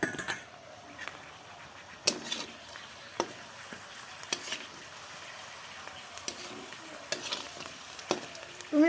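Potato papad fries in hot oil with a constant close sizzle, broken by occasional sharp clicks and taps of a utensil against the pan, with no talk.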